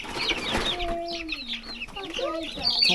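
Barred Rock and Dark Cornish chickens cluck and chirp close by in a steady, overlapping chatter, with a few longer calls rising over the flock noise.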